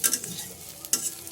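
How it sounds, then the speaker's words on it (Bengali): Onions fry in oil in a kadai, a soft steady sizzle broken by a couple of sharp scraping stirs of a spatula, close and alone. "তো পেঁয়াজ ভাজা হয়ে গেছে,"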